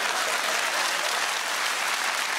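Sustained audience applause from a comedy show studio crowd, steady dense clapping filling the whole stretch with no voices on top.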